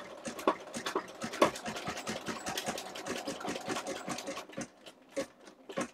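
An embroidery sewing machine stitching an appliqué bird, its needle clattering in a rapid, steady mechanical rhythm close by, briefly slowing and stuttering near the end.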